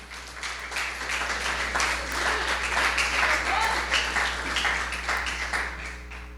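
A church congregation claps in praise at an evening women's service, steady dense applause over a low hum, with faint voices underneath.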